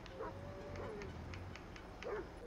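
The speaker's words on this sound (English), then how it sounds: "that's Lamar's dog" Lamar's dog Chop in Grand Theft Auto V gives a few short, faint yips and whimpers over low game background sound, and someone talks lightly underneath.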